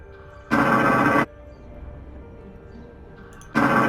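Outcrop scanner sound from the Elite Dangerous video game: two brief, loud bursts of crackling static about three seconds apart, over a low, steady electronic hum.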